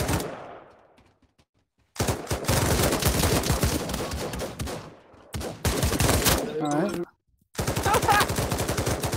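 Loud bursts of rapid automatic gunfire in the VR shooter Pavlov Shack, coming in several dense volleys separated by short silent gaps, close and harsh with a few voice-like sounds mixed in.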